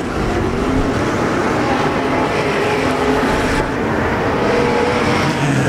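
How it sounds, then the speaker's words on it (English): Sprint cars race on a dirt speedway at the Hall of Fame Classic desert sprint car main, a loud, constant roar of engines at full throttle throughout, close by and dense, with no talking. "Jake Hessel going for the race lead in turn number 3"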